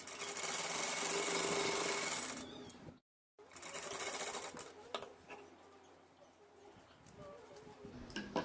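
Sewing machine running steadily as it stitches a front-slit Navratri gown, a loud continuous whir that stops abruptly for a moment, then resumes in shorter, uneven bursts.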